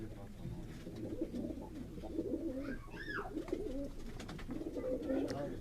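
Pigeons on a rooftop loft in Quetta coo in low repeated throaty bursts, with a rising call in the middle, over steady background chatter of people talking nearby.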